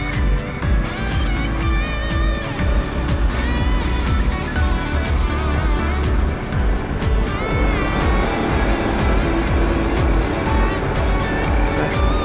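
Peugeot Metropolis SW scooter ridden along a road in Tenerife, its engine droning loudly and continuously with wind rush and passing traffic, heard from the rider's position.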